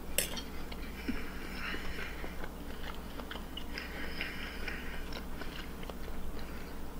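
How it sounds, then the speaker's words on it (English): Someone chews steak loudly and wetly near the microphone, with steady crunching bites and squelches repeating throughout, plus a faint clink of cutlery. "Mate, I can hear it going all round. It's like a washing machine in his mouth."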